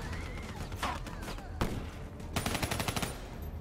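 Gunfire in the video game Call of Duty Black Ops III, quick bursts of shots and rapid automatic fire with impacts, fairly quiet and uneven, no talk.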